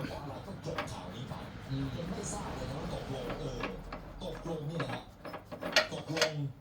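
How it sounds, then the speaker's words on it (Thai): Mechanical clicks, ratcheting and rattles of metal parts as the interchangeable cutter head is swapped on a wood-rounding lathe tool, with a nut being fitted. Irregular close handling noises build to sharper clatters near the end, with voices talking throughout. "นี่นะครับหัวเหลาเปลี่ยนง่ายๆนะครับ ใส่น็อต"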